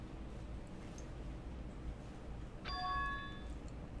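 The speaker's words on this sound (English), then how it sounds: "That bell just now, could it be?" A single bright bell chime rings out once in the video game Danganronpa 2, clear and ringing briefly over a low steady background hum.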